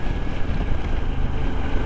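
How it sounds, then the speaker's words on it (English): Strong wind roars and buffets the microphone in a continuous low rumble while riding around a lake, loud and steady throughout. "Real windy"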